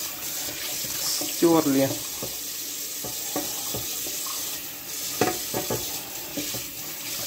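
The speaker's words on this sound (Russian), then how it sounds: "Включили водичку губкой" Tap water runs steadily into a sink while a sponge is wetted and rubbed, with a couple of brief clattering handling noises over the flow and a short spoken word.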